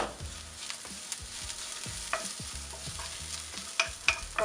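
Onions sautéing in oil in a pan, a soft, steady sizzle broken by repeated spatula scrapes and taps in an irregular rhythm, fairly quiet and without voices.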